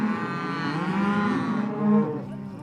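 Cattle low and moo loudly and close at a Montana spring roundup during branding, one long drawn-out call rising and falling with little else around it.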